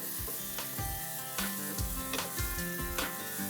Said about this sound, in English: I love the smell of mushrooms frying in butter